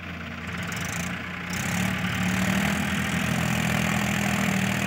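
A Mahindra 265 tractor engine starts and settles into a steady, loud diesel idle that grows fuller after a second and a half, a loaded trolley hitched behind.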